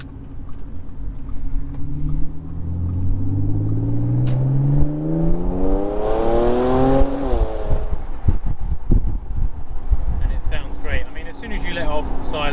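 Audi B8 S4 exhaust pulling hard in second gear, a loud rising drone that climbs steadily in pitch over several seconds, then drops away with a shift and settles into a lower rumble under cabin noise.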